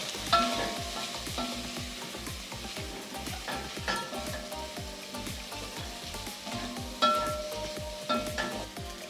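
Beef brisket frying with beef masala and curry powder, a steady close sizzle carrying rapid rhythmic stirring knocks and a couple of louder utensil hits against the pot, with no speech.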